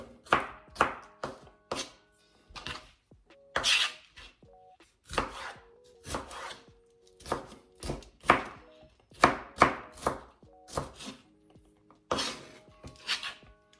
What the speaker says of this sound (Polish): jak widzicie paprykę kroję dość grubą kostkę